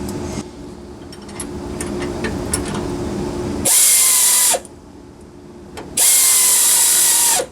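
A power tool drives a sway bar end link bolt on an 88–98 Chevy C1500 in two loud, close bursts of bright whirring, each lasting about a second. Quieter handling clicks and rustles fill the gaps between them.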